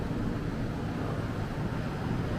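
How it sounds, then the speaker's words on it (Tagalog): Wind buffeting a microphone outdoors: a steady, loud low rumble with constant gusty noise and no pauses or voices. "Hangin."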